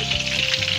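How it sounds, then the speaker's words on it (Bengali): Tikki patties deep fry in hot oil, giving a brief, loud, continuous sizzle heard up close with no voices. "এই যে দেখো ডিপ ফ্রাই করে একদম টিকিয়া ভাজা হচ্ছে।"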